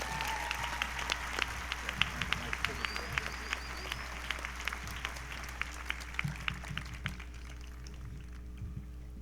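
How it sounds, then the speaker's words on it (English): Graduation ceremony audience claps in gratitude for mentors, a thin, scattered round of individual claps over a constant low hum, with faint voices murmuring underneath before it fades out. "let's give a round of applause of gratitude for your mentors"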